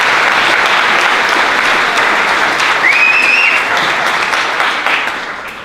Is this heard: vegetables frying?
no